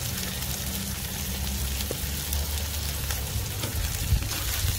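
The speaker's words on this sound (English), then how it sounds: "This is one of the few times you will see me kind of press the burger a little bit, just because I do want it to get that sear on top." Ground chuck burger pressed down and searing on a Blackstone griddle, giving a steady close sizzle that runs throughout with a few faint scrapes and taps.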